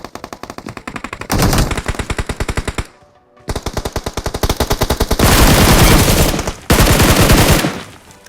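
Loud machine-gun fire from the BGMI battle game, rapid sustained automatic bursts with a brief gap near the middle, harsh and close throughout.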